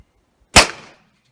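A single sharp shot from a SIG P320 pistol fired through a Surefire Ryder suppressor, a loud crack with a short decaying tail, then silence.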